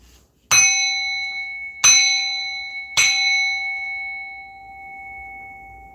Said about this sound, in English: Let's bang this bell to remove, rebuke, and banish all hexes, curses, and spells